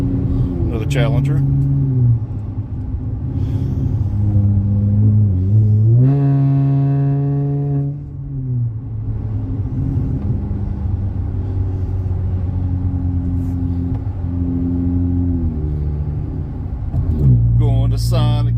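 Dodge Challenger with Magnaflow Magnapack exhaust rumbling nearby at a deep idle, punctuated by several sharp throttle blips and one sustained high rev that falls back to a loud burbling idle.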